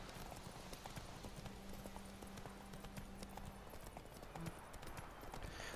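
Steady clip-clop of horse hooves trotting in The Witcher 3 at an even rhythm, fairly quiet, with a faint low hum in the background.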